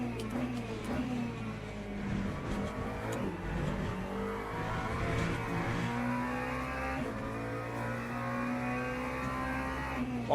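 LMP2 prototype race car in the Le Mans Ultimate racing game, its engine note rising and shifting through gears as it passes, with a steady in-game engine drone and a voice talking over it.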